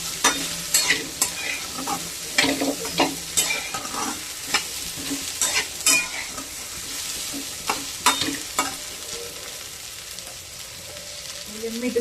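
Salted okra is stir-fried on a griddle pan (tava), with frequent sharp scraping and tossing strokes over a constant close sizzle. The strokes come in uneven rhythm for several seconds and there is no speech.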